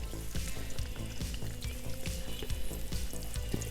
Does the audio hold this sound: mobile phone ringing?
no